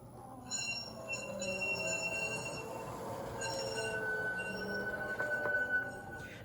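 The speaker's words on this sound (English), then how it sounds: "F7 is the cornering squeal, and that only plays with movement." A model LGB tram's high, shrill cornering wheel squeal rings out over a steady mechanical running rumble, sustained throughout with a few brighter screeching peaks.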